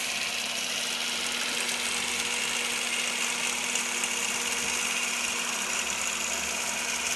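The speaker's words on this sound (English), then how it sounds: "you'll be able to see how the machine quilts as I'm quilting" A longarm quilting machine stitches a quilt with a continuous, even motor hum and a rapid stitching buzz that holds steady throughout with no pauses.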